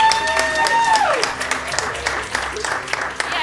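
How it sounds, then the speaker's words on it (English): Audience applause at a live tabletop role-playing show at a fringe festival, steady clapping mixed with voices and cheering, with a sliding tone near the start and crowd noise throughout. "give her a big round of applause"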